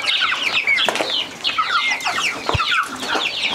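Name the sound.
chickens clucking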